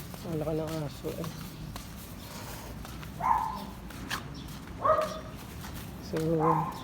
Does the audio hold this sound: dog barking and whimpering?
yes